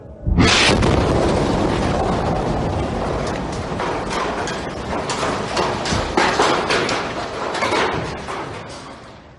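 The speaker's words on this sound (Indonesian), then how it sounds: "Video amatir warga merekam detik-detik ledakan di bangunan Masjid Al-Mutakin." Airstrike explosion hitting the Dar Al-Mutakin mosque building in Yarmuk, Gaza City, recorded on amateur footage; a sudden loud blast followed by a long, roaring rumble of collapsing debris that stays heavy for several seconds.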